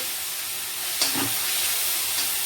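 Tuna cutlet mixture sautéing in hot oil in a pan, a steady soft sizzle and hiss throughout with a brief louder burst as it settles, no voices.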